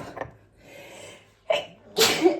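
A close, forceful sneeze with a sharp intake of breath beforehand, followed by a second explosive burst.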